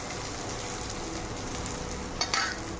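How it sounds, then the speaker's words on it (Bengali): Steady sizzling of onions frying until browned in a pan, with a spatula stirring and scraping briefly near the end. "লাল করে ভেজে নেবো আর একটু পেঁয়াজটা"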